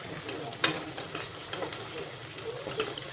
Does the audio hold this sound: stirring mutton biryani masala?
yes